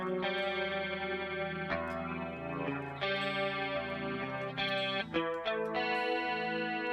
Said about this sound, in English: we're just going to do stereo chorus